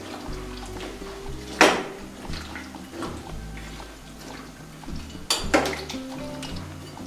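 A spoon scrapes and clinks against a pot while vegetable stew with cardamom, cloves and cinnamon is stirred, with two sharp metallic knocks over a steady low simmering background.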